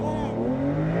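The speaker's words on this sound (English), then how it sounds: "launch control's active, letting go" A 2025 Porsche 911 S Cabriolet with Chrono pack launching hard under launch control, its engine roaring loud and close as the revs climb in rising harmonic sweeps through a single continuous pull.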